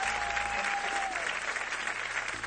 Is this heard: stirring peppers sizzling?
no